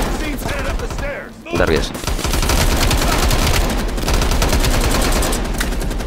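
Rapid automatic gunfire in Call of Duty: Black Ops Cold War rattles in dense bursts, with a short lull near the middle before the shooting resumes at full intensity, and a voice speaks briefly over it.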